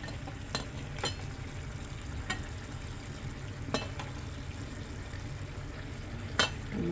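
Bottle gourd curry cooks in a pan while tomatoes go in, bringing a soft steady frying hiss broken by several sharp clicks and taps of a utensil, close and quiet.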